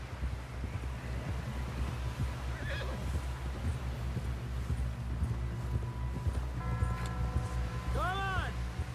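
Horse hooves clip-clop steadily in Red Dead Redemption 2 under wind and voices, and a loud whinny rings out near the end.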